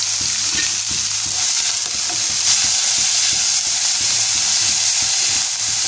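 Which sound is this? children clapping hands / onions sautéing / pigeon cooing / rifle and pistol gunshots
onions sautéing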